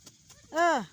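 One short, nasal goose honk sliding downward in pitch, heard close and alone after a few faint taps.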